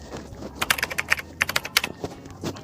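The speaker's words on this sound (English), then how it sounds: "Once I click on it, I go ahead and type in my message." Someone types a message on a keyboard, a quick irregular run of crisp key clicks over a low background hum, close and moderately loud.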